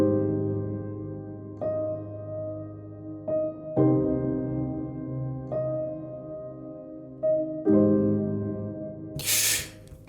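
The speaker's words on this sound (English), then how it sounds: "there's a really, really beautiful piano solo" A soft solo piano with reverb plays slow sustained chords and gentle notes from a breakdown section, each struck every second or two and ringing out, quiet and intimate, with a brief hissing burst near the end.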